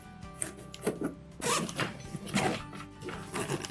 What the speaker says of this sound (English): then just unzip on this side